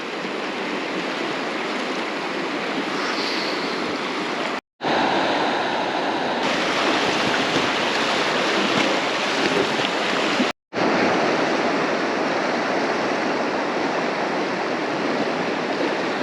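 Loud, steady rush of the fast-flowing River South Tyne at Alston fills the whole stretch, broadband and unbroken apart from two brief cuts to silence.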